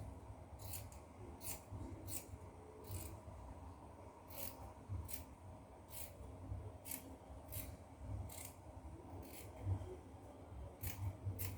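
Scissors cut through fabric for a pencil gown, giving a steady series of about a dozen crisp snips at an even rhythm, close to the microphone and fairly quiet over a low room hum.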